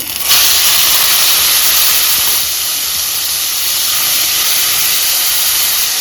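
Small boneless chicken pieces salted and frying in a pan let off a loud, steady hiss of steam and sizzle that carries on evenly throughout, with no talk.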